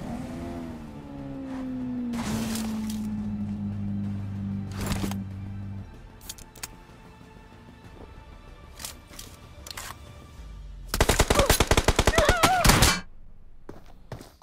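Gunfire in a mobile battle royale game during a one-on-one fight against a hacker-like opponent, with a rapid loud burst of automatic shots near the end after vehicle engine droning and scattered single shots earlier.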